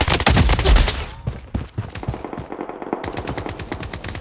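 Rapid automatic gunfire in the mobile shooter Blood Strike, a dense, loud burst of fast shots up front that thins into scattered single shots, then resumes as a steady rattling volley, with no talking.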